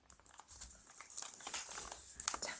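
Paper is folded and creased by hand for a Pokémon origami model, soft close crinkling and rustling in quick irregular bursts, fairly quiet.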